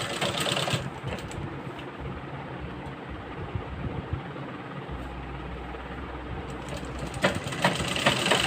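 A sewing machine stitches a waistline belt onto a blouse with a steady, fairly quiet mechanical whir that continues for several seconds.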